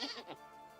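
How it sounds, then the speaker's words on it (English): A baby goat in the video game Vintage Story gives one short, faint bleat that quickly fades into a quiet background hum. "I heard a baby goat."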